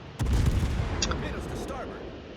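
Heavy battleship guns fire in World of Warships, with the Yamato shooting, a sudden deep boom that rolls into a long rumbling tail while a voice talks over it.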